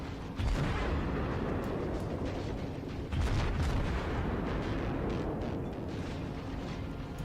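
Main guns of the cruiser Königsberg in World of Warships booming in a sustained barrage, with two heavier low blasts near the start and middle over a constant roaring, rumbling battle background.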